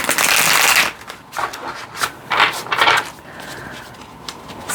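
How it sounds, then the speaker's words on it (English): Tarot cards are shuffled in quick riffling bursts, a long rustle first and then several shorter flicks and taps, close and clear. "Let me just give it a little shuffle real quick."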